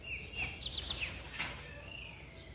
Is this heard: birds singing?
yes